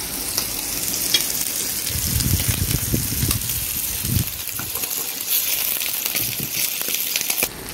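Meat skewers grilling on a barbecue out on a balcony in summer heat, a steady close sizzle and crackle with occasional pops and dull knocks of handling, no speech.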